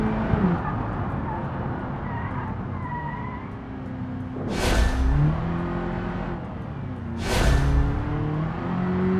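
A racing car engine revs and shifts through gears in BeamNG, with two sharp whooshing bursts and a faint rising supercharger whine beneath.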